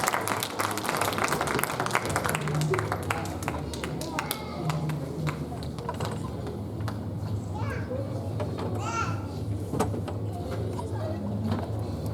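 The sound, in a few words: applause at a wedding ceremony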